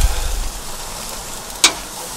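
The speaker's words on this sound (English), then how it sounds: "Sizzling." Constant hissing sizzle of beef short ribs on a hot grill, with one brief sharp tap partway through.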